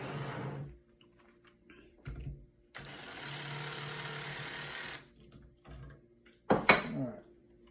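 Screws come out of the back of a Kwikset keypad door lock: a steady mechanical whir runs for about two seconds, framed by quieter clicks, taps and handling noises nearby.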